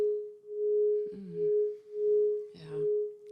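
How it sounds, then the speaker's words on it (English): A healing bowl rings with a pure, sustained tone that swells and fades in slow, regular pulses, while soft gliding vocal tones come in twice over it. "So this is the sound of the bowl."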